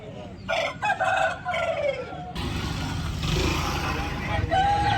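A red country rooster crows loudly and close by at a Sunday chicken market in Vijayawada, a drawn-out call, followed by noisy outdoor bustle and another crow beginning at the end.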